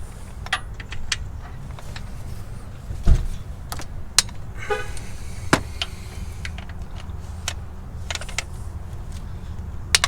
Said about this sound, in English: So we're going to try the ratchet.